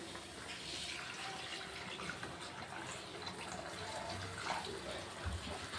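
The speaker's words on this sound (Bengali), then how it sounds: "এবার আমি উষ্ণ গরম জল করে রেখেছি, সেটা আমি এবারে দিয়ে দেব মশলার মধ্যে" Warm water is poured into a cooking spice mixture for posto begun, a steady soft splashing and trickling that runs evenly throughout.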